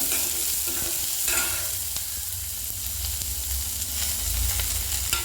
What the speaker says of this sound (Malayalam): ഉള്ളി സവാള ചേർത്ത് നന്നായിട്ട് വഴറ്റണം സ്ലോ ഫ്ലെയിമിലിട്ട് വഴറ്റിയെടുക്കാൻ